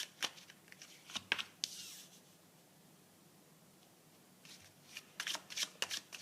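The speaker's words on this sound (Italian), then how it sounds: "andiamo a disporre le carte secondo i punti cardinali" Tarot cards are shuffled and dealt out in quick, papery bursts and crisp slaps, with a quiet pause in the middle before more flicking and snapping resumes, close to the microphone.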